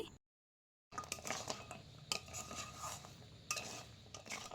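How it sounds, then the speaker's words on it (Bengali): Fried gaja sweets are stirred into sticky, thickened jaggery in a pan. A metal spoon scrapes and clinks against the pan in uneven bursts after a brief silent moment at the start, close and fairly clear. "গজাগুলো খুব ভালো করে গুড়ের সঙ্গে মিশিয়ে নিচ্ছি"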